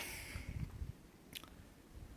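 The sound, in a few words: hiker eating a snack bar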